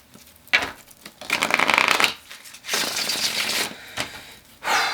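Tarot cards being shuffled in several quick riffling bursts, crisp and close, with short pauses between them and no talking.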